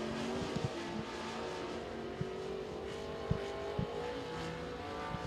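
A race car laps Senoia Raceway during qualifying, its steady engine drone carrying throughout with a few sharp knocks and bumps standing out over the continuous noise.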